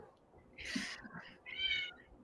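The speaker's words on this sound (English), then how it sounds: "cat just got very loud" Cat meowing loudly indoors close to the microphone, two drawn-out meows separated by a short pause over a quiet background.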